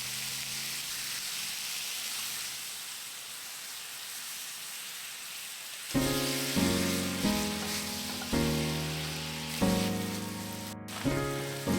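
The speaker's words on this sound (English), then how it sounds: "I'll be frying up some broccoli and carrots." Broccoli and carrots fry in a pan with a splash of reserved sauce, giving a steady, close sizzle for about six seconds before music comes in and largely covers it.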